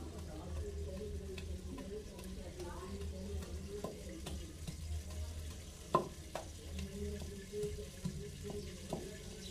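Ghee heating in a pan on a home kitchen stove, with a soft continuous sizzle and hiss running under low background hum, broken by a few sharp clinks and taps of utensils.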